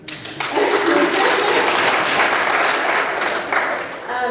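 A crowd claps at an awards banquet, a broad, even roar of many hands that starts abruptly and continues for a few seconds, with brief voices under the applause.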